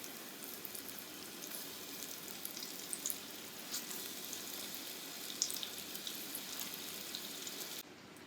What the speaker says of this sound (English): I'm just going to put the meat in there and let it seal